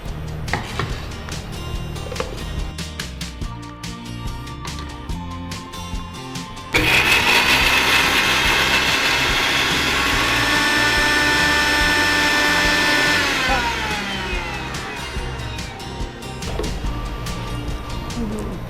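A mixer grinder grinding garlic, cumin and onion starts abruptly with a loud, steady high whine that runs for about six seconds, then winds down gradually, following a stretch of quieter clattering.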